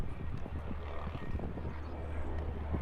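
An airplane drones overhead during a beepball World Series game between the Archers and the New Jersey Titans, a low steady engine rumble beneath scattered talk and field noise.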